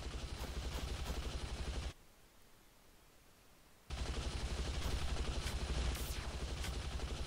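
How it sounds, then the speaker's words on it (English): Rapid bursts of gunfire from the video game Planet Explorers, loud and steady for about two seconds, then a near-silent gap, then the shooting resumes just as hard with sharp cracks on top. "Okay, where's she shooting? I hear her, but I don't know where she's at."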